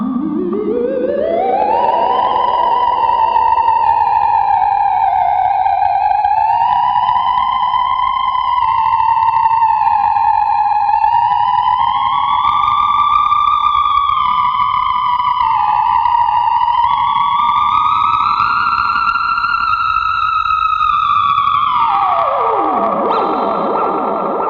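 Kaoss Pad 2 on preset 81 with delay and distortion, a loud sustained synth lead sliding smoothly in pitch with a buzzing distorted edge and echoing tail, running alone for about twenty seconds before dropping away.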